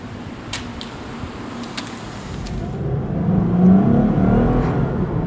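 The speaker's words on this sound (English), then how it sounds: "It's really a nice engine tone when you mash the throttle on the F-Sport." A Lexus IS F-Sport engine at full throttle, first a low whirring cruise that swells into a deepening, rising roar of acceleration, close and loud with no talking.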